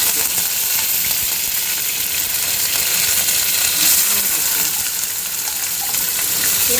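Fenugreek seeds frying in a pan for a South Indian vendhaya kuzhambu, a steady, close, dense sizzle with faint stirring throughout and no talk.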